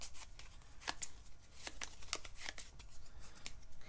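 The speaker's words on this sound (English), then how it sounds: "And we shuffle them up." Quick series of crisp riffling snaps as a deck of cards is shuffled up close, irregular bursts over a few seconds without talking.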